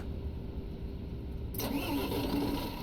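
In Tourist Bus Simulator, a MAN Lion's Intercity bus engine cranks and catches partway through, shifting abruptly from quiet cabin hum into a loud, steady running idle with a slight rev.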